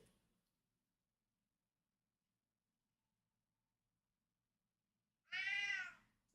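A cat gives a single loud, drawn-out meow close by after several seconds of near silence.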